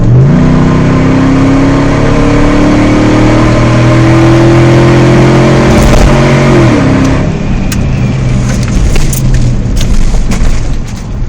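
A 2006 Jeep Grand Cherokee with a custom side exhaust pulls hard at wide open throttle, heard from inside with the windows up: a loud, steady engine drone climbs in pitch, then drops off sharply after about seven seconds.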